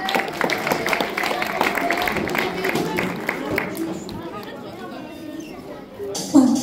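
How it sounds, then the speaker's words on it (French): An audience at a Japan Mania cosplay contest claps and chatters as a contestant walks on stage, a steady wash of applause and crowd murmur fading toward the end before a brief louder thump. "On l'applaudit bien fort."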